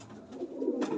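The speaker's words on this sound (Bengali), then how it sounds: "পায়রা আছে" A pigeon coos in a low, throaty rolling murmur, close and fairly soft, continuous for a moment with no voices over it.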